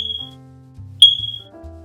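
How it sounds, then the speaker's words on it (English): A smoke alarm sounds two short, high chirps about a second apart, clear and close, over a low background tone. "If you hear chirping,"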